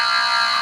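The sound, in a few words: game show contestant buzzer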